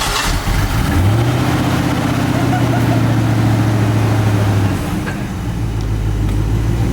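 Ford Mustang fastback in poor condition cranks and fires up, then its engine rises into a loud, steady rumbling idle close by, settling lower near the end.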